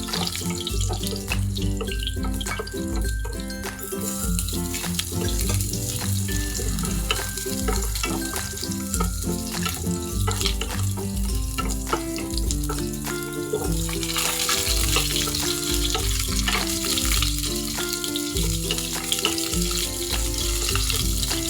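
Garlic, onion and ginger sautéing in a little oil for bulanglang, a steady watery sizzle with scattered clinks and scrapes running throughout, no voices.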